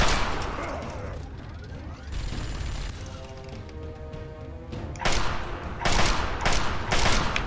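Gunfire in the game Fallout 3: sustained bursts of shots crackle continuously, growing denser and louder in the final seconds, with a mechanical clatter underneath.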